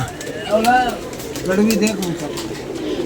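Pigeons coo softly in two low, rolling calls close by, with background noise and faint voices around them.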